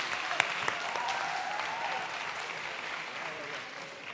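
Audience applause at a WordCamp Europe 2023 conference talk, a sustained burst of clapping from a large crowd that holds steady for several seconds and then begins to thin.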